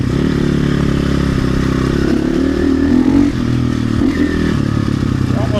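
A motorcycle rides over muddy trail terrain and jumps, its engine loud and close with a steady droning roar, rattling and scraping from the bike and ground throughout.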